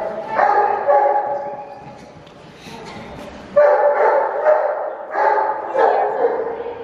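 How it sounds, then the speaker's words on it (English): A big dog barks in loud, close bursts, a few sharp barks, then a pause, then another run of barking, with people talking around it. "You don't want to taunt the dog, right?"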